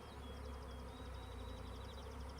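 A honeybee swarm buzzes in a dense, steady drone, close and continuous with a wavering high whine from individual bees passing near.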